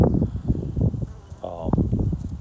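Honey bees buzz loudly and close around an opened hive, a dense droning hum throughout, with a brief sharper whine from a single bee flying near.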